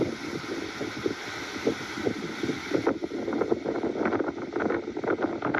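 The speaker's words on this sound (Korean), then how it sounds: "바람 소리," Wind buffeting outdoors, gusty rumbling pressure against the microphone with uneven bursts that grow rougher in the second half.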